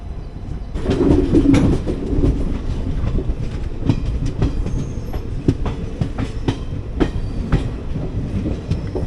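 An 06576 Summer Special train in AC 3-tier rolls along the rails from Palakkad toward Bengaluru, with a continuous rumble and repeated clickety-clack wheel knocks as it starts moving, heard from inside the coach without talk.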